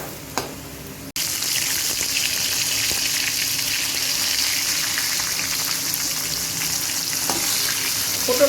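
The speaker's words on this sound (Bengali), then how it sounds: "আলুগুলা ভাজা হয়ে গেছে লাল করে" Potatoes frying in oil until reddened, a dense continuous sizzle close by, with a sharp knock near the start and faint scraping stirs throughout.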